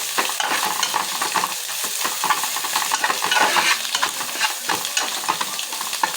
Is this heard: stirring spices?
yes